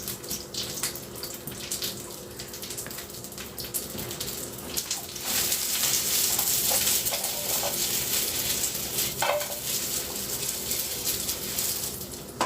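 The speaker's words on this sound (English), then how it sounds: "Giving that a quick pan fry." Food pan fries with a steady, broad hiss of sizzling oil that swells a little midway and continues without a break, close by and with no talk over it.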